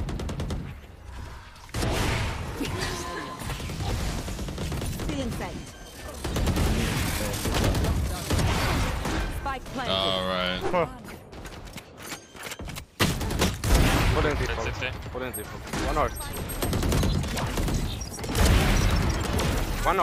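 Rapid bursts of gunfire from the tactical shooter game Valorant, with sharp repeated shots and weapon mechanisms sounding close and loud throughout, under excited voices calling out positions.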